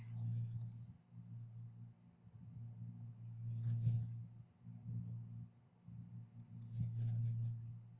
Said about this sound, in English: I'm going to click on that little white spot because I don't want it.